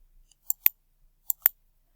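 Two pairs of sharp computer mouse clicks, each press followed quickly by its release, sound close and crisp against near silence.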